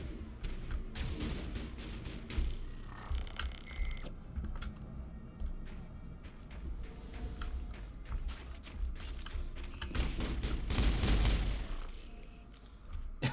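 Scattered gunshots and impacts in the video game Mass Effect, set on Noveria, coming in uneven bursts with a heavier cluster of loud shots near the end.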